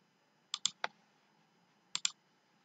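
Computer mouse clicks while saving in ERP accounting software, heard as a quick cluster of three crisp clicks, a pause, then two more, close and quiet against a faint room hum.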